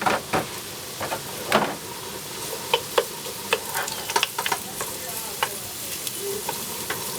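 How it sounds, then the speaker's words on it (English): Onions sweating in a hot pan, a soft steady sizzle with scattered clicks and scrapes of stirring, close and without talk. "I'm going to start sweating down my vegetables here, or my onions"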